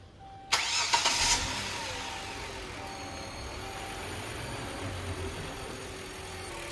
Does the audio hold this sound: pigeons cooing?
no